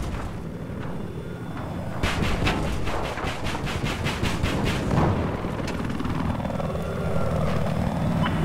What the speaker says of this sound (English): I got attack chopper zooming rockets